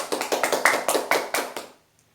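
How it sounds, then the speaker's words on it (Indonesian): Primary school pupils in a sixth-grade maths class clap their hands together as a reward, giving a short, quick run of crisp claps that stops abruptly and leaves silence. "beri tepuk tangan"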